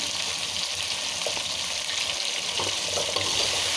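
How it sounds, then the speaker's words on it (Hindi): Potatoes frying in a pan for an aloo baingan dish, giving a steady, close broadband sizzle with a few faint clinks and stirring touches, and no voices. "आलू भी जो है हमारा वो तकरीबन फ्राई हो चुका है"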